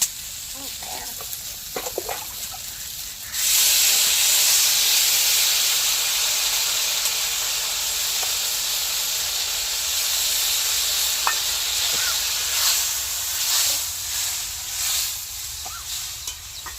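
A ground paste of poppy seed and peanut drops into a hot pan in an Indian village kitchen, a few clinks first, then a sudden loud, sustained hissing sizzle that carries on, swelling slightly as it is stirred.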